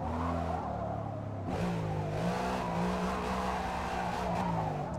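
Racing car engines roar in the video game Forza Motorsport 8, a continuous loud drone with rising and falling revs through gear shifts and occasional tire squeal.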